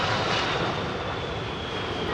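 Airplane engine giving a loud, steady, broadband roar that holds even for about two seconds, with no voices over it.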